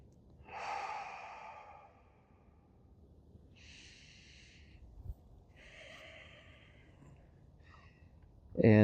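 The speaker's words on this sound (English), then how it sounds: "just give yourself a few moments to breathe slow" A person lying on their back at rest after a yoga flow breathes slowly, making about four soft, drawn-out breaths close by with quiet gaps between them, ending in a sudden louder thump.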